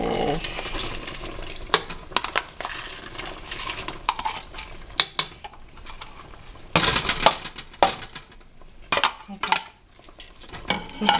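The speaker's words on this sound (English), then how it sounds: "I'm just going to stir in the uncooked rice." Uncooked rice being stirred into a pot for paella, with irregular bursts of scraping and clinking from a spoon against the pot, close and moderately loud between quieter pauses.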